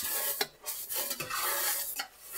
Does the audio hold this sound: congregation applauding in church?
no